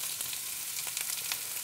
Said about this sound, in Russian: На масле рисок совершенно великолепно обжаривается.